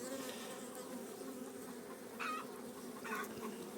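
Dark domestic honeybees droning steadily at an open hive with brood, honey and bee bread, a continuous soft buzz close by with a couple of brief higher whirs as single bees fly past the microphone, no speech.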